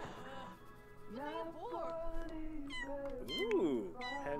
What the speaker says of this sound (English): Look at this cute little kitty.